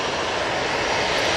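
A departing Airbus A330 jet at Manchester Airport climbs away into low cloud, its engines a steady, broad roar holding at a constant moderate level throughout, with no voices.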